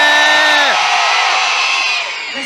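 Concert audience in Grenoble shouting together in a loud, sustained roar of voices, dense crowd yelling that swells and fades over a couple of seconds with no single speaker.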